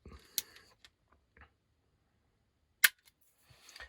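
An airsoft Glock 19 with a light trigger is dry-fired, producing two sharp snapping clicks about two and a half seconds apart, each followed by faint mechanical ticks in an otherwise quiet room.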